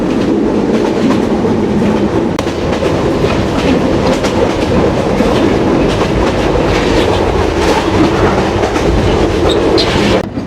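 Rupsha Express passenger train on the Khulna–Chilahati route rolls steadily along the rails at dusk: a loud, continuous close-up rumble with a dense rattle of wheels and carriages that never lets up.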